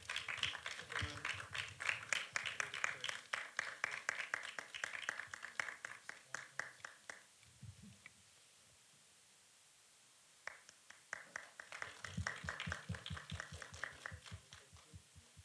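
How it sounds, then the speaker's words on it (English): An audience claps at a fireside chat event, dense applause that fades out midway, leaves a brief lull, then swells back in as a second burst of steady clapping. "can we have a round of applause for all of them"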